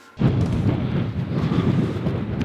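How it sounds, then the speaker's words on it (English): Strong wind on an open hillside slope buffets the microphone in a loud, continuous low roar with gusty swells. "Okay, it's windy"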